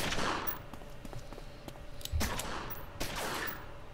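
Gunshots in the gangster video game Omerta - City of Gangsters: a rapid string of sharp, crisp cracks and heavier bangs, some in quick bursts, over a steady low background.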